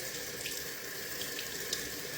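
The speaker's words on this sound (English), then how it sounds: "Okay, I let the water kind of run through." Tap water runs steadily into a sink while a deer heart is rinsed under it, a constant close hiss with faint splashes and no talking.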